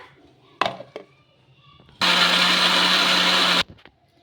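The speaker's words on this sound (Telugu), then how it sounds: "మిక్సీ పట్టేసుకుందాం ఇంకా" After a few clinks and knocks, a mixer grinder blending cabbage dosa batter roars at high speed for about a second and a half, then stops abruptly.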